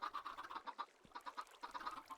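Video game chickens cluck in a steady run of short, soft, rapid calls at low volume, with a brief pause midway before the clucking resumes.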